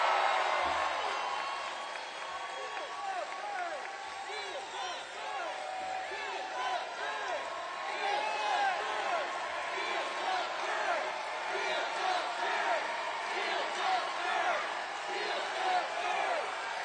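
A large crowd at a Bernie Sanders rally cheers and whoops continuously, a dense, distant roar that holds steady without letup.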